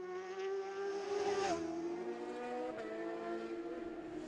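A 600cc racing motorcycle at the Southern 100 road race screams past at high revs, its pitch dropping sharply as it goes by, loud and close, with no voices.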